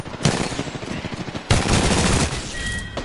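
Apex Legends gunfire in a firefight, two strong volleys of rapid shots with a sustained rattle between them, close and loud with no talking.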